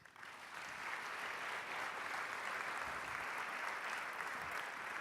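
A theatre audience claps steadily at a Nutcracker performance, the applause building over the first half second and then holding as a dense, even wash of many hands with no talking.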